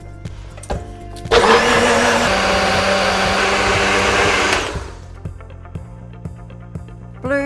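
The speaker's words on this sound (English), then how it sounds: "and then we go and blend." A countertop blender whirs loudly for about three seconds, blending a blueberry vanilla collagen shake, then cuts off, with brief clinks before and after.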